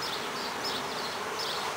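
A honey bee swarm buzzes in a dense, continuous drone, close and loud, with the pitch wavering slightly as the bees mill about.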